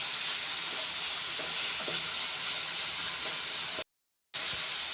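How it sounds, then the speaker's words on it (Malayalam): Grated coconut and coriander powder sauté in a pan for tomato chutney, giving a steady, close sizzling hiss with faint stirring scrapes, cut by a short silent gap near the end. "വഴറ്റിയെടുക്കുക."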